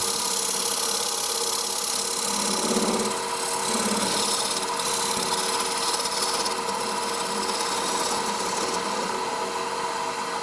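Shop-made carbide square scraper cutting a spinning wood blank on a lathe, giving a steady close rasping, scraping hiss over the constant hum of the lathe motor, continuous throughout.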